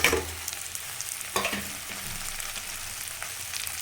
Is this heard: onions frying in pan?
yes